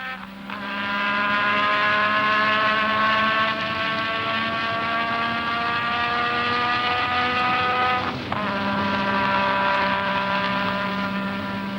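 Formula 1 car driving flat out downhill toward Eau Rouge at Spa, heard close up. The high engine wail climbs steadily, briefly dips for a shift, then climbs again at full throttle.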